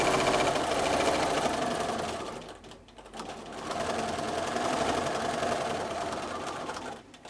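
A sewing machine runs steadily while free-motion quilting a stacked-triangles quilt, its rapid mechanical stitching briefly easing off partway through before resuming at full pace.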